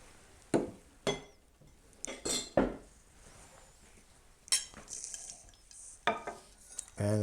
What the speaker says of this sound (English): Give it a good stir here. Stir it for 20 seconds.